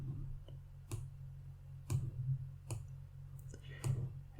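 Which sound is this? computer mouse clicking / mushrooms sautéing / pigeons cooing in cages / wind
computer mouse clicking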